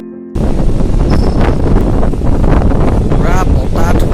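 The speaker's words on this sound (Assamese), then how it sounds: "পুৰা বতাহ ধুমুহা আহিছে" A strong wind storm with rain outside at an airport during boarding, heard as a loud, continuous roar of buffeting wind that starts abruptly and stays heavy throughout, with faint voices in the background.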